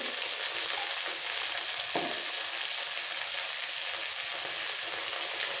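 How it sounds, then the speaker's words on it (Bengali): Okra fries in hot oil with a steady, dense sizzle that barely changes from start to finish. One faint stir sounds partway through, and no voices are heard. "ঢেঁড়স তেলের মধ্যে একটু নাড়াচাড়া করে দিয়ে দিতে হবে"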